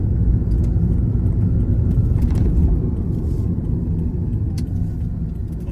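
A car driving along a fast road, taking a roundabout at about 40 speed; a steady loud engine and road rumble continues throughout, with no talk over it.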